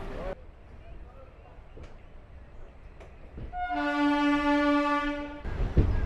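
Rumbling Chakradharpur Express passenger train running with steady rail noise, then a long, loud multi-tone horn blast sounding close by for about two seconds.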